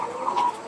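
Hens at a laying farm in Desa Sengkong give a single short, close cluck with a brief squawk in it.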